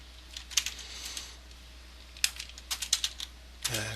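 Close-up typing on a computer keyboard comes in uneven bursts of crisp keystrokes, with short pauses between runs and a soft low hum underneath.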